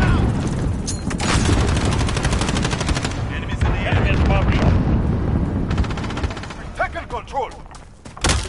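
Gunfire and a grenade blast in a Modern Warfare deathmatch, with loud dense bursts of automatic fire and heavy booms running nearly throughout, a voice shouting over the din and scattered sharper shots at the end.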